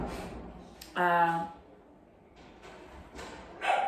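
A dog gives one short bark at an outdoor beach, sharp and fairly close, between stretches of someone talking.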